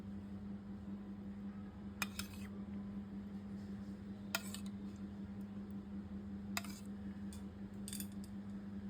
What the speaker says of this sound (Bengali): একটু দই ফেটিয়ে নিচ্ছি